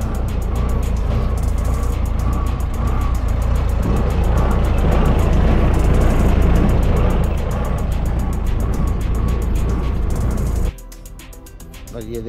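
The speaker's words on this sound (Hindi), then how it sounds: "सो गाइस, आप सुन सकते हैं गाड़ी की साउंड," A Mahindra Thar idles close by after a cold start at -15°C in Sissu Valley near Keylong and Manali, a steady dense engine rumble that holds for about ten seconds before dropping off sharply.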